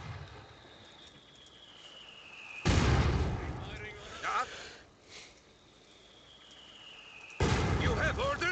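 Artillery fire from mortars and a divisional field gun in Company of Heroes 2, two heavy booming blasts several seconds apart with rumbling tails over a quiet battlefield, with faint voices in the background.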